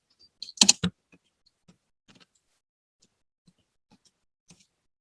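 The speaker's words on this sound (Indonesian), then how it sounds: "kita mengetikkan npm run dev untuk menjalankan Laravel Mix-nya" Someone typing a command on a computer keyboard, a quick cluster of louder key clacks followed by sparse, faint, scattered taps in an otherwise quiet room.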